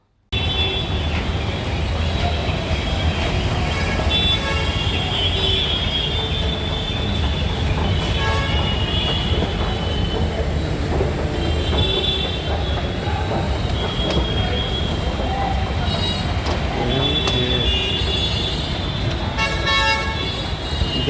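A Delhi Metro Pink Line train runs along the track with loud, continuous rumbling, wheel squeal and a horn toot, heard close and steady from start to finish.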